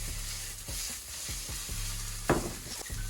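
Tofu and green onions sizzle in a frying pan while being stirred, a soft steady crackle broken by repeated scraping strokes and one sharper clink of utensil against the pan.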